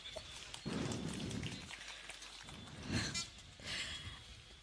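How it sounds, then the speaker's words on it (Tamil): Rain falls steadily at an outdoor political rally, a dense wash of drops and patter on surfaces, swelling in bursts and staying fairly loud throughout with no voices. "கூட்டத்தில் வரும்போது கூடவே மழையை கூட்டிட்டு வந்துட்டார்"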